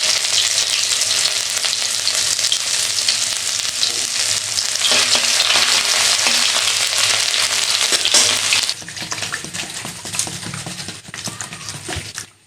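Bay leaves, dried red chillies and ginger sizzle loudly in hot mustard oil in a wok, a dense continuous crackle that eases off slightly toward the end, with some stirring clatter.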